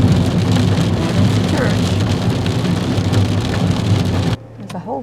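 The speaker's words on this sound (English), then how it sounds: "We're on our way to church and it's still raining." Heavy rain drums loudly and steadily outdoors on a rainy Sunday in the South, probably heard from inside a moving car, then drops away abruptly just before the end, leaving quieter sounds.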